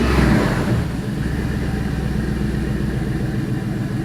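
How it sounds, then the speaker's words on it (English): A 5.3-litre LS V8 mounted on an engine test stand runs at a steady idle, a loud, close, continuous low rumble that stays even after a brief louder burst at the very start. "I'm gonna fire it up right now"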